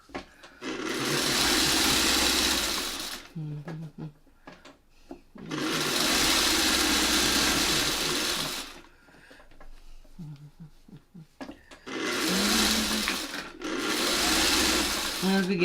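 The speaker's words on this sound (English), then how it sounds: "As we get closer to that pin, I raise my foot and do a few stitches under." A sewing machine stitches a quilt seam with a Y seam in three steady runs of fast mechanical whirring, separated by pauses filled with soft handling noises and a person talking.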